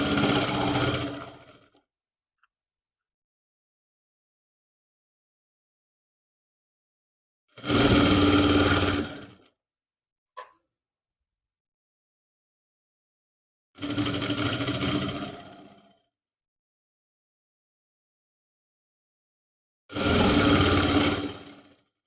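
A sewing machine runs in four separate short bursts on cream fabric with grey bobbin thread, each a steady mechanical whir of stitching, with long silences between them.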